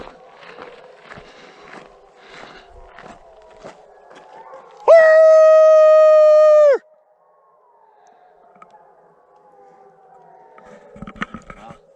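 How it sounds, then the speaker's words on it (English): Coyotes on a Colorado trail at night break into a brief chorus of rising, wavering howls lasting about two seconds, set between soft footsteps and faint trail noise, with quiet voices before and after. "Listen to the coyotes."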